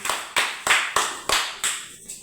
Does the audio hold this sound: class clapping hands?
yes